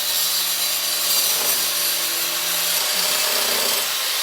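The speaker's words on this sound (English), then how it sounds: "Yeah, I'm going to sawzall it." A reciprocating saw cuts through the frame of a brand new Polaris RZR, giving a loud, continuous buzzing rasp up close, with the pitch wavering slightly as the blade works through the metal.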